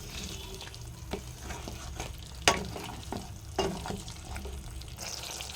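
Potato curry with cumin and coriander powder and a splash of water being stirred in a pan, with a continuous low frying sizzle and repeated scraping clinks of the spoon against the pan, close up and steady.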